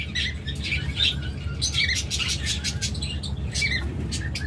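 Caged pet birds, a breeding pair kept with eggs, chirp in quick, repeated bright calls over a low background rumble, fairly close and continuous.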